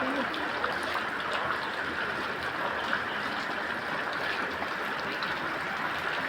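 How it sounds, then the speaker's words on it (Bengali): Heavy rain pours steadily in Dhaka while water runs off nearby, making a continuous, even hiss with a faint trickling layer that does not change for several seconds, and no voices are heard. "এই যে বৃষ্টি"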